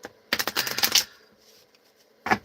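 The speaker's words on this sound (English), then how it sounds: "So let's shuffle these cards." Tarot cards shuffled by hand in a quick riffling burst lasting under a second, followed by quiet and one short final snap of cards, close and crisp with no talking.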